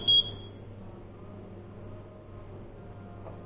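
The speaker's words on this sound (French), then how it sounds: "2 bips et ça s'éteint." A Ninebot One Z10 electric unicycle gives a short, high electronic beep as it shuts off, then only a low, quiet hum remains.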